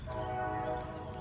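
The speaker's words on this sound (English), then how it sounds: "Excuse the train." A passing train sounds a sustained, steady horn that holds for the whole moment, loud and fairly near, over a low rumble of the rails. No one speaks.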